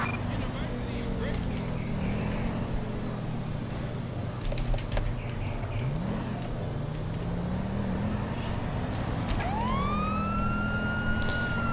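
A police car siren in the LSPDFR video game wails continuously over steady engine and traffic noise, its pitch sweeping up and down, with a sharp rising whoop near the end.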